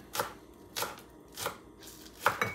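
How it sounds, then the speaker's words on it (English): Three green onions chopped with a knife on a cutting board, four or five sharp, evenly spaced knocks about two-thirds of a second apart, close up with no talking. "I'm just chopping three green onions here"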